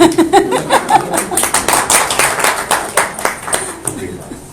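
Audience applause welcoming guests who arrived on time, a dense rattle of clapping hands running throughout, with a voice talking over the start.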